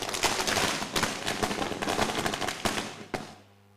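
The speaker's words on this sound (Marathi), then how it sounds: "फटाक्यांची आतषबाजी होत आहे" Rapid, dense crackling bursts of fireworks go off at a cricket tournament prize ceremony, rattling continuously for several seconds before cutting off sharply.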